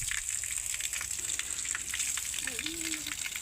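Cold spring water flows at Jordhara in Devijhoda, above Belbari, a steady close rushing and splashing that fills the whole stretch, with a faint voice briefly audible underneath.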